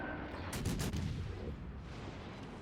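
Naval guns of the cruiser USS Boise fire in World of Warships: Legends, giving a quick cluster of muffled booms over a steady battle rumble, fairly soft and with no voices.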